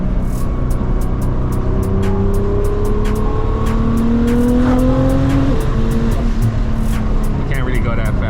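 A Nissan GT-R driven on the road revs hard through an acceleration pull, the engine note climbing in pitch and then shifting, with constant road and cabin noise and a person talking over it.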